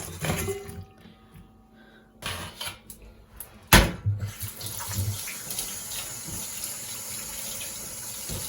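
Tap water runs steadily into a sink while pickled fish is being washed, with faint clatter and handling noises and one sharp knock.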